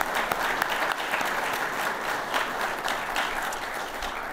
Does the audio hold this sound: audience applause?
yes